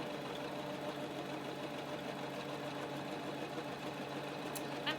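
A sewing machine runs a straight stitch through pinned fabric for reusable Christmas crackers, a continuous steady motor hum with rapid needle chatter throughout, and a brief click near the end.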